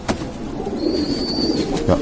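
Low, soft cooing of pigeons in a pigeon loft in the Novkhani gardens near Baku murmurs steadily nearby, with a faint thin whistle drifting in briefly over the top.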